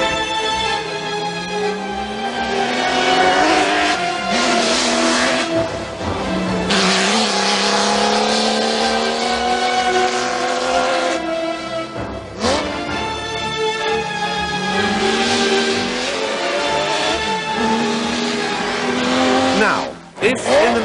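A loud Ferrari racing car engine roars and revs up through the gears in long rising sweeps, with brief lifts between shifts and a sustained high-pitched howl.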